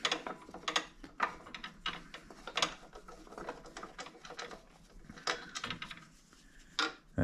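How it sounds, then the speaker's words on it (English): A wrench loosening the blade bolt on a DeWalt DWS779 compound miter saw gives a series of close, quiet metallic clicks and ratcheting ticks with small handling knocks. No one speaks. "Loosen that bolt, take this all the way out."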